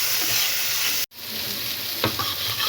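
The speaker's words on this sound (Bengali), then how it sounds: "হলুদ, ধনিয়া, মরিচ, স্বাদ মতো লবণ, কিছুটা পানি দিয়ে ভালো করে কষিয়ে নিলাম।" Turmeric, coriander and chili powders with salt and a little water frying in a pan, a continuous close sizzle with a brief cut-out and a few soft stirring scrapes.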